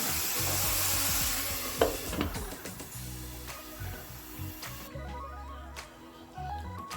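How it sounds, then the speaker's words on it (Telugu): Stuffed brinjal curry (guthi vankaya) simmering in a pan over a low flame, giving a soft continuous sizzle with faint stirring clicks and scrapes, steady and close throughout. "రెండు నిమిషాల పాటు లో ఫ్లేమ్లో మగ్గించుకోవాలి."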